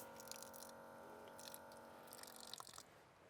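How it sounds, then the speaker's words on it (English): Water runs steadily from a tap in a car camping setup, a continuous close splashing trickle with small drips and clinks toward the end. "you just tap it right there and the water runs"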